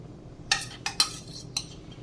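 A metal spoon scrapes and knocks against a pan while stirring thick mango halwa: four sharp clinks spaced irregularly, close and distinct over a quiet background.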